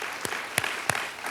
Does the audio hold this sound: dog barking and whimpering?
no